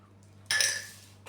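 A spoon clinks against a cup of Turkish apple-flavoured tea as sugar is added, one bright metallic ring fading out, then a faint second clink at the end, close and otherwise quiet.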